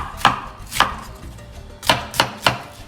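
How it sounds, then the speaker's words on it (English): A knife chops cauliflower finely on a board, producing five crisp, close, loud thuds at uneven intervals with brief pauses between them, and no voices present. "we are chopping up super fine."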